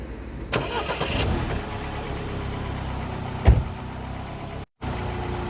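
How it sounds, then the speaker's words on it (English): A car engine cranks and catches, then settles into a steady, rumbling idle that runs on, briefly cutting out near the end; the sound comes from a car alarm simulator electronics kit. "So fire the engine up again,"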